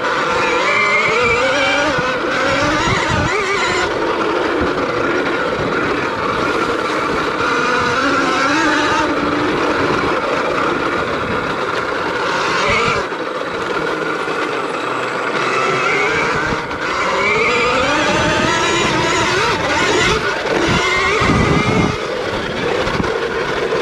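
A 2020 KTM Freeride electric dirt bike whines at rising and falling pitch as it rides, with tyre and chassis noise close and loud throughout and no engine roar.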